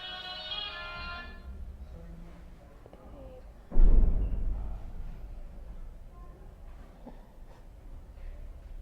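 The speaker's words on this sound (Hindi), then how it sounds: "फोन बंद रखा करो क्लास में मेरा, अभी इतना वॉल्यूम में चला है।" Mobile phone ringtone going off loudly during a class, a bright repeating melodic tone at the start that stops after about a second, followed by a thump and a teacher talking.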